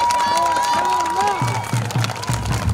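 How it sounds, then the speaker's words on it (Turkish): Wedding guests at an outdoor wedding hall cheer and applaud loudly amid a lively crowd, with shouting voices and a sustained music tone over continuous clapping. "Maşallah alkışı daha güçlü gelsin"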